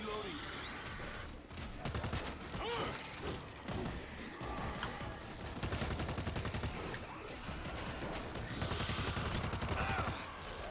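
Rapid gunfire fills a Saw Endgame video game session, dense bursts of automatic shots nearly continuous and loud, with muffled voices underneath.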